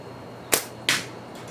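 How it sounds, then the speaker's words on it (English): A slingshot shot strikes and bursts a can outdoors, two sharp close impacts a split second apart, the second a bright clang, against quiet background. "I just exploded that can."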